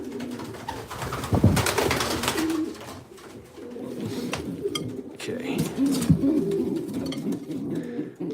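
Racing pigeons in a loft coo and rumble steadily throughout, several birds close by with overlapping throaty calls, while a person talks over them at moments.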